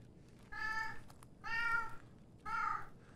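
A cat meows three times in a factory setting, each drawn-out call spaced about a second apart over a quiet background hum.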